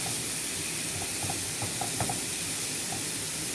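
Lamb with curry powder sizzling in a skillet over medium to high heat, a steady loud hiss with a few small pops and crackles and no talking.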